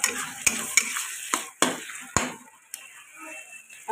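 Chickpea ghugni cooked with mutton fat in oil, sizzling in a pan as a utensil stirs and scrapes, with several sharp metallic clinks over the frying, close and clear.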